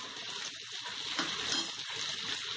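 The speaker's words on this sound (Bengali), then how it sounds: "এগুলোকে দিয়ে আমি ভালো করে এটা কষে নেব 2 মিনিটের মতো" Ground cumin, coriander and chili powder sauté in a pan for an egg tadka. A soft, steady sizzle runs throughout with faint stirring and occasional scraping.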